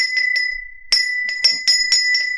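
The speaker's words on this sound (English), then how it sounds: "We haven't rang the old bell in a while." A handheld bell is rung repeatedly in a studio, its bright sustained metallic tone struck again and again in an uneven rhythm, loud and close with no talk over it.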